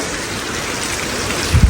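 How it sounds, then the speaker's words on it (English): Heavy rain during a red-alert storm pours down as a dense, loud, steady hiss, with a low thump near the end. "There's about 25 centimetres of rain"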